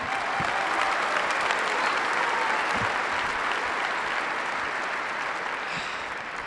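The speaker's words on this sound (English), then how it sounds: "Round of applause for them." Sustained applause from an audience at a high school senior night speech, steady dense clapping lasting several seconds and slowly easing at the end, heard from within the room.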